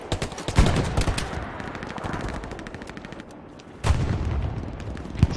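Rapid bursts of automatic machine gun fire during a CFR versus CSP airsoft-style team match, sharp repeated shots with a louder volley near the start and another near the end, loud and close.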